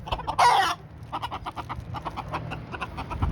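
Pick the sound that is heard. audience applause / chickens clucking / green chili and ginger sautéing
chickens clucking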